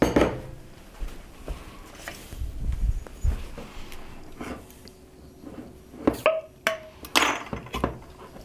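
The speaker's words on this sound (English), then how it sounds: "I'm going to open up a can of my diced tomatoes" Opening a home-canned jar of diced tomatoes in a kitchen brings a series of close metallic clinks, taps and a brief scraping twist, scattered irregularly with quiet pauses between.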